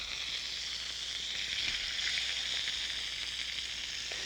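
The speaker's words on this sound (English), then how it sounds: "Just remember that your fat is hot and that your veal is dry" Veal pieces browning in hot fat, giving a steady, close, even sizzle and crackle that runs unbroken throughout, with no voices over it.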